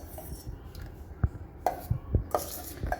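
A spoon stirs no-cook tender coconut payasam after condensed milk is added, giving a few scattered clinks and scrapes against the bowl, close and fairly quiet, with no talking.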